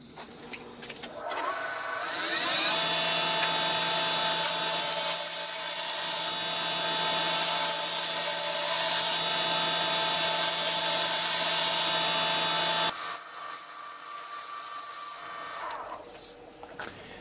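A power sander smooths the top of a large handmade Lego-style head, a steady loud whirring grind that spins up, runs for about twelve seconds with slight pitch dips, then winds down.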